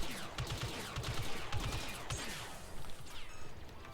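Rapid bursts of gunfire from blasters and guns in a Star Wars Battlefront 2 campaign battle, with several volleys clustered through the first half and scattered shots with crashes continuing after, loud and dense throughout.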